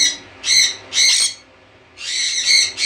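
Several pet birds, among them sun conures, give loud, shrill bursts of calls in an aviary colony, three clustered bouts separated by short quiet gaps, close to the listener.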